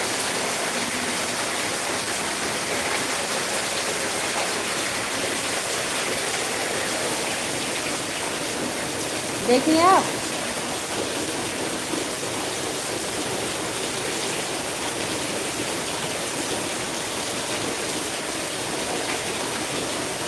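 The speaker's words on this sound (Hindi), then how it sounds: "दीदी ये देखिए मेरे यहाँ कितनी बारिश हो रही है आज" Heavy rain pours down steadily around a house verandah, a dense continuous hiss filling the whole stretch, with a brief burst of a voice speaking near the middle.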